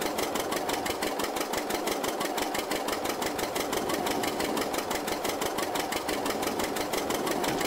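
Tractor engine running in a farming simulator game, a steady rapid chugging pulse at an even idle-like rhythm, continuous and fairly loud with no talking.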